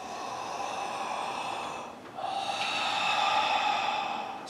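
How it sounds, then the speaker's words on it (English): Slow ujjayi breathing through a slightly constricted throat, heard as a long, steady hissing breath close to the microphone, a brief pause, then a second breath that grows louder. "So starting now, ujjayi breath. Throat slightly constricted as if you're fogging glass."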